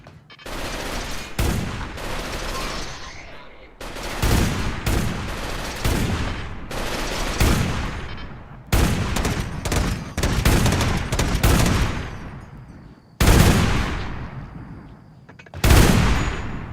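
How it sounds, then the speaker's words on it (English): Heavy cannon fire in the video game Rimworld: repeated loud, booming volleys in quick succession, each burst ringing out and decaying before the next, with no talk. "Good lord, those cannons."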